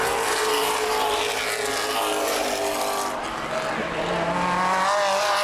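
Late model stock cars racing at Baer Field Speedway, engines roaring and shifting pitch as they round turns three and four, heard under an announcer's running commentary.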